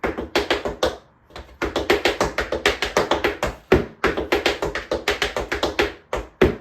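Tap shoes strike out a rolling riffles combo in dense, rhythmic bursts of sharp metallic clicks, with a brief gap early on and a few heavier accents that land like heel drops.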